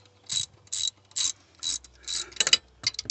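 Tightening bolts on the throttle position sensor of a Cadillac Escalade, heard as close, crisp bursts of ratchet clicking in a steady rhythm of short strokes, faster near the end.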